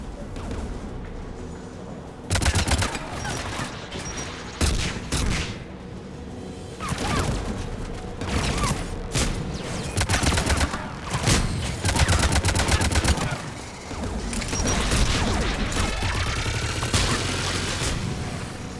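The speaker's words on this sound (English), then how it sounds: "AA guns ahead of us." Anti-aircraft guns fire in Mass Effect 3, loud rapid bursts of heavy gunfire and booming impacts repeating through a noisy battle scene, nearly constant with short gaps.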